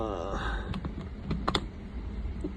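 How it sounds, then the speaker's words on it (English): Keys clack on a vintage 1930s Royal O typewriter with touch control, a few sharp, irregular strikes over a background of faint voices. "It's a Royal typewriter with what does it say? Touch control."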